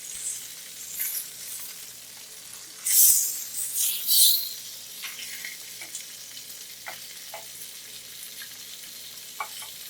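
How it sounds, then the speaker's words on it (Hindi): Green chilies and tomatoes roast in a pan, giving a soft steady sizzle with a few louder bursts of crackling and stirring near the middle, then quieter scattered pops. "हरी मिर्च टमाटर को रोस्ट करेंगे"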